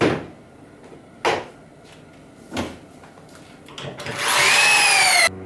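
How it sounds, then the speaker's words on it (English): A power drill bores pocket holes into a wooden kitchen cabinet face frame: a few short knocks and clunks as the jig and wood are positioned, then a loud, high whining drill run of about a second that cuts off abruptly. "With the pocket holes drilled"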